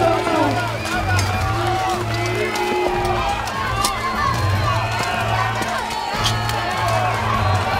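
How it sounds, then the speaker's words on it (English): Spectators roar and cheer at a Battle of the Nations 5 vs 5 armored medieval combat bout, Czech Republic versus Estonia, in Prague, a dense, steady crowd din with whoops and shouts rising over a low hum throughout. "the crowd is going nuts yet again."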